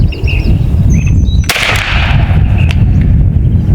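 A single sharp crack from an AEA Defender 2 air rifle fires outdoors at a range, with a snappy report that fades quickly over steady background noise and faint bird calls.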